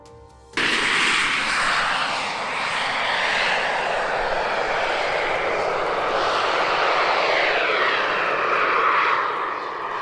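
A large 100 kg RC aircraft powered by kerosene micro-turbines and electric motors takes off, its loud turbine roar and whine starting abruptly and holding steady and close for several seconds.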